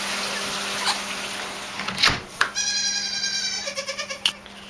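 Nubian goats bleat several times, including a long wavering bleat followed by shorter pulsing cries, fairly close, with a few clicks and knocks around them.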